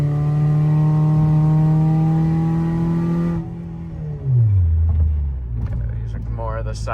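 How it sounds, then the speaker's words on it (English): Ford Fusion driving with a transmission whine, a steady high tonal whine riding over loud engine and road rumble, which drops away midway as the engine note falls and shifts, heard from inside the car. "there is a whine coming from the transmission"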